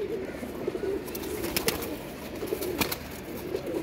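Pigeons cooing softly in a loft, low repeated throaty coos against background noise with a few sharp clicks and taps.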